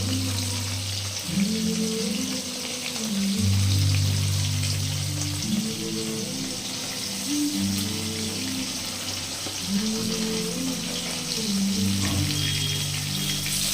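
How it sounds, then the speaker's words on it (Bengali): Hilsa fish pieces frying in hot oil in a pan give a steady, fairly loud crackling sizzle that runs unbroken throughout, with faint tonal background sounds underneath. "মাছ ভেজে নিচ্ছি আমরা"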